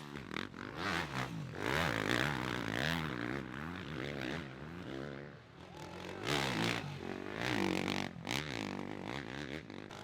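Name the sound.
Kawasaki dirt bikes racing up a climb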